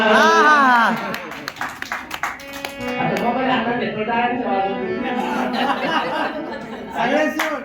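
Audience clapping at a Marathi ghazal recital, a burst of applause with scattered chatter and light laughter from the crowd, mixed with voices and music.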